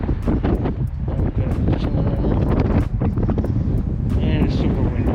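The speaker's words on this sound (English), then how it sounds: "It is super windy. So if the audio is trash, you guys know why." Strong wind gusts on a choppy, freezing lake batter the microphone with loud, rumbling buffeting, while someone talks throughout.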